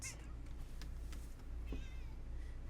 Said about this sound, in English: If you can hear the meowing,